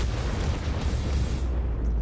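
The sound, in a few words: tank cannon firing in World of Tanks video game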